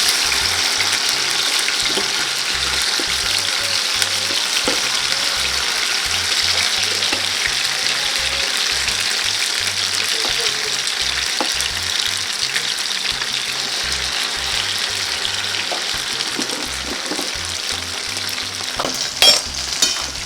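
Loud, steady sizzling of fish frying in a pan, continuous crackle with occasional pops and a faint rhythmic hum underneath.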